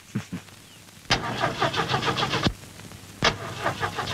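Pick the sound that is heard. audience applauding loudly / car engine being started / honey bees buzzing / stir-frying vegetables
car engine being started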